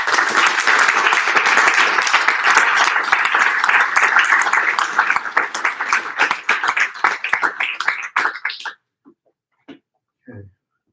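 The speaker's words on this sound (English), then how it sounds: "So let's give them a round of applause again." An audience at a spring book launch applauds the poets, with loud dense clapping that thins into scattered claps and then stops, followed by a few faint sounds.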